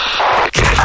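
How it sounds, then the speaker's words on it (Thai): A grenade detonates in a competitive shooter match, a loud close blast with a heavy low rumble that follows a brief cut in the game sound, alone without talk. "คว้างระเบิดคว้างระเบิดไปแล้ว"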